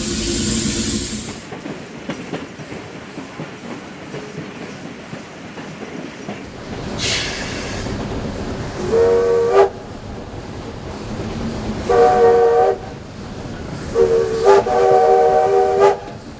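A train rumbles and clatters as it pulls away, with several loud horn blasts sounding close by, the later ones longer and repeated.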